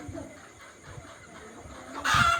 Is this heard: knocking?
no